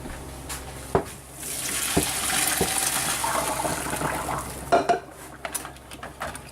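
Pasta water pours and rushes into a sink with metallic clanks of a pot, a few sharp knocks and clatters breaking through the splashing.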